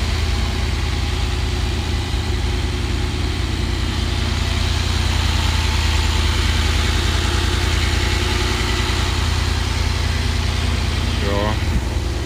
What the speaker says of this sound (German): Hier haben wir den schönen 500er Motor. Und der Verkäufer hier von Mercedes ist so lieb und startet den mal für mich.